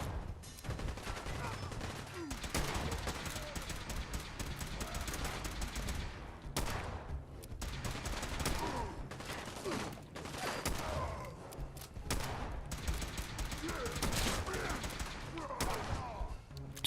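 Sustained gunfire in Fallout 4, with rapid bursts and volleys of shots rattling almost without pause and loud throughout, while a voice talks over the shooting.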